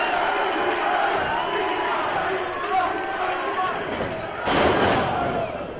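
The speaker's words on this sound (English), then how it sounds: "and the crowd loves it" A wrestling crowd cheers at a PCW Ultra match featuring Puma King, a loud continuous roar that swells near the end, with a commentator talking over it.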